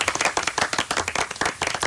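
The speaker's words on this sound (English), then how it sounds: "So a round of applause for Danny, please." Studio audience applause for a radio caller named Danny, a short burst of close, fairly loud clapping with distinct individual claps in an uneven rhythm.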